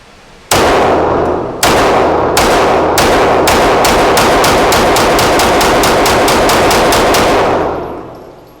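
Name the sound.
rapid 9mm handgun shots fired at a target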